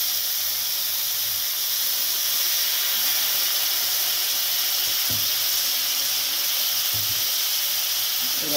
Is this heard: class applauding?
no